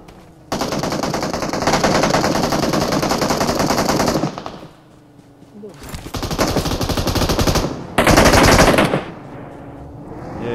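An Uzi submachine gun in a video game fires in three long, loud, rapid bursts, with brief quiet gaps between them.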